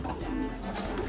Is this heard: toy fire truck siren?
no